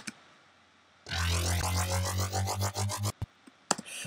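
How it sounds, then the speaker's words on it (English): A buzzy synthesized engine roar revs and rises in pitch for about two seconds, then cuts off abruptly, followed by faint clicks. "it really does sound like a motorbike to me."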